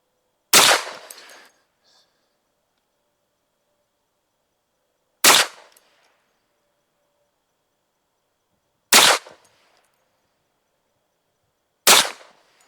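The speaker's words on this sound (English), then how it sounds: "we are going to shoot a 5-shot group at the top right target" Sharp gunshots from a Hi-Point 10mm carbine firing handloaded 10mm rounds at a target, four loud isolated cracks spaced several seconds apart, each with a short decaying echo into silence.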